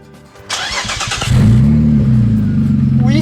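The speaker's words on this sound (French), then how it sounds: "Petit démarrage des familles." A 2003 Renault Espace V6 with keyless start cranks briefly, fires up, and revs into a loud, steady idle, recorded close from inside the car.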